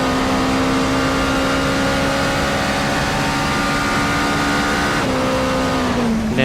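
A race car engine on a flying lap at Autopolis in a racing video game, holding a loud, steady high-revving drone before a quick pitch drop near the end, then climbing again.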